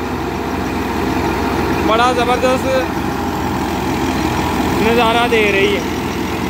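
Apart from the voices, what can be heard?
wheat thresher running on Massey 240 tractor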